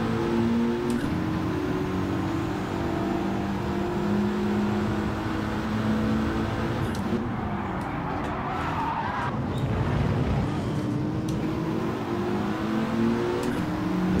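Mitsubishi race car with a five-speed gearbox in Gran Turismo 7, engine droning steadily at close range with shifting pitch and brief tyre scrubbing midway, no talk over it.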